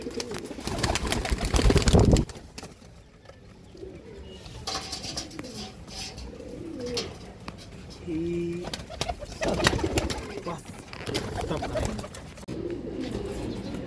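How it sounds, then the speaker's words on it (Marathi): Pigeons coo in repeated soft, throaty calls at close range at a pigeon club, mixed with rustling, flapping and some talk. "जबरदस्त क्वालिटीचं कबूतर आहे"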